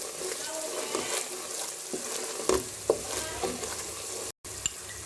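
Cumin seeds stirred into hot oil for an almond and amla salan, giving a steady frying sizzle with a few spoon scrapes and knocks against the pot, close by and moderately loud.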